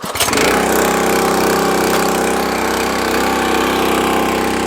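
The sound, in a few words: small engine starting with new Huayi carburetor, choke on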